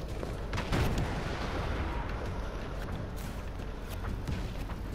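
Tank cannons fire in the video game Just Cause 3, heavy booms and gunfire rolling over a dense, continuous battle rumble, with a few sharper blasts standing out early.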